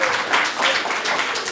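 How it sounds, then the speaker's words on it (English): A group clapping for themselves at a healing workshop, a brief burst of dense, fairly close applause. "Clap for yourself."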